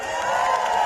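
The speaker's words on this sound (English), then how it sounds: "Give yourselves a round of applause for being here tonight" A large outdoor rally crowd in London applauds and cheers itself in a continuous, dense roar of clapping and voices that holds steady and loud throughout.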